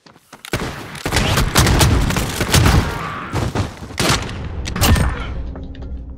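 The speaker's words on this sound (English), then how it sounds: "Gunfire" Call of Duty Modern Warfare gunfight: loud, close bursts of rapid gunfire and heavy booming shots crowd the soundscape, with short pauses between volleys and no one talking.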